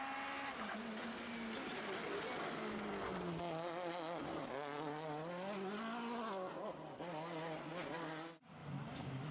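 Rally cars pass on a muddy forest special stage in a pine wood, engines revving and whining as they approach and speed past, loud and close, one car after another, with a sudden drop near the end.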